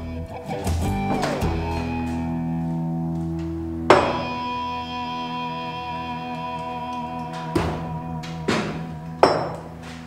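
A rubber hammer strikes the steering wheel of a vintage 1970s Bedford truck, a few separate heavy knocks spaced seconds apart over a sustained ringing tonal background.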